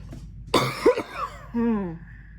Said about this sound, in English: My cough's gonna be worse because I had gravy.